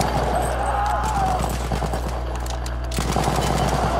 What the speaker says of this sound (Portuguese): Eu vejo que as armas atiram um pouco mais devagar do que a do Call of Duty